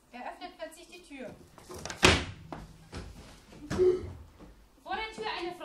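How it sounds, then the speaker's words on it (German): In a German audio drama, a door is suddenly opened: a sharp, loud thunk of the handle and door between stretches of spoken narration and dialogue. "Er öffnet plötzlich die Tür."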